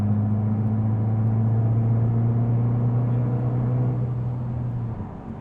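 Audi TT Black Edition engine in sport mode, a steady loud low rumble and hum close by that holds for several seconds, then eases off at the end.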